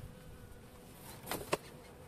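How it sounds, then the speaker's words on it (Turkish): Faint honey bees buzz around a hive against quiet background noise, with one or two insects passing close by near the end, at a village apiary in Trabzon in January. "Arılar çok güzel polen çekiyorlar."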